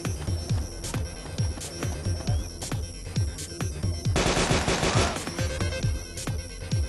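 Rapid automatic gunfire from the military shooter game Arma 2, sharp repeated shots in quick bursts with a dense sustained volley midway, loud and close with no talking.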